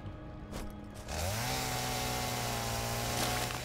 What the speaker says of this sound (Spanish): Esto está chulo, lo de la motosierra.